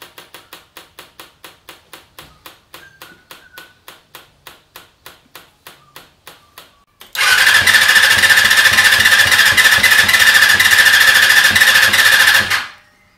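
A Honda CBR250R MC19 motorcycle engine cranks in a long series of evenly spaced pulses, then fires and runs loud and close for several seconds before cutting off, with no voices.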